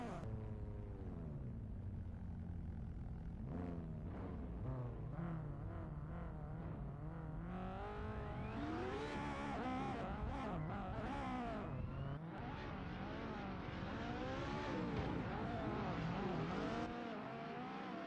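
Drift cars at a Vancouver Drift Championship round, a Nissan and an Honda S2000 among them, race around a banked track with engines revving and tyres squealing continuously and loudly for the whole stretch, growing denser midway.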